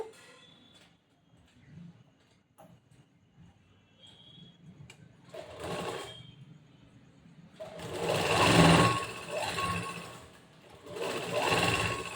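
A sewing machine stitches a half-inch seam allowance while joining blouse cloth, running in several separate bursts that grow longer and louder toward the end, with quiet handling noise between runs.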